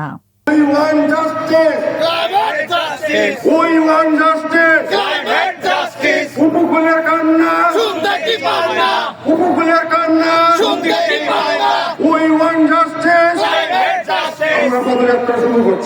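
Rally participants at a climate justice march in Satkhira, Bangladesh chant slogans together. The loud, close crowd shouts in steady, rhythmic repeated bursts throughout.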